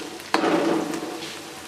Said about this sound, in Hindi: अदरक लहसुन अच्छे तरीके से फ्राई हो चुका है।